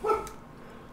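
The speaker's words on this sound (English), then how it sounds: "You may hear my dog barking in the background." A single short dog bark cuts in nearby, one sharp yap that quickly drops away into quiet background hum.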